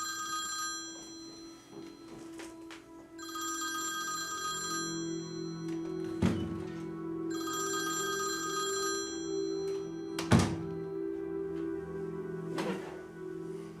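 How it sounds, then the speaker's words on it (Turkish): An old-style telephone bell rings in repeated bursts, several long trills separated by pauses, fairly loud and close over a steady low hum, with a couple of sharp knocks between rings and no talk. "Telefona cevap vermem lazım."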